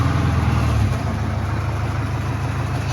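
A Subaru Outback 2.0 engine idles steadily at its first start after the gearbox and underbody shields were refitted, with a knock reported in the motor. The low, continuous hum is close and loud, with no talking.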